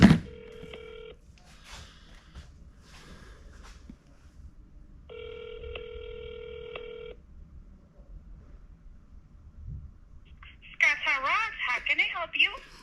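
A phone on speaker plays ringback tones, two long electronic ring bursts separated by silence, followed by a person's voice answering on the line.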